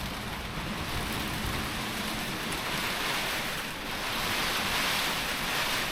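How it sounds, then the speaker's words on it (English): Strong gusty wind from Storm Eowyn rushes around a home and shed, a steady broadband roar with surging swells, alone and without talk. "I can feel the wind blowing in this way"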